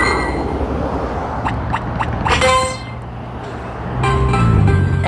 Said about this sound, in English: And excuse the traffic, rush hour just about.